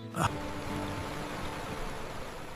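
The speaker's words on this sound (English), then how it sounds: "I can only hear the rushing river water hitting the stones down below" Steady broadband rushing of flowing water, continuous and even, with a brief louder splash-like burst near the start.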